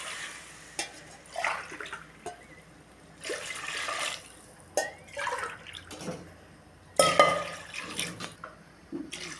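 Water is poured into a pot of biryani rice in several separate bursts of splashing and gurgling, with short quiet gaps between pours.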